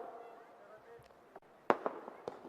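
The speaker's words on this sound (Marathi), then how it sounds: "माझ्या मागे कोणी फटाके लावले बंद कर ते फटाके" Sharp firecracker bangs pop off several times, loud and close, behind a speaker at a political rally in Jamkhed, while a voice talks faintly in the background.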